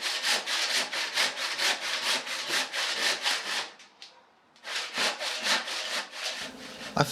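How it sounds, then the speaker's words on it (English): A traditional hand saw cuts through hard, dense African teak planks in steady rhythmic rasping strokes, close and loud, pausing briefly midway before the strokes resume. "I first need to saw all the long planks into shorter pieces for the main parts."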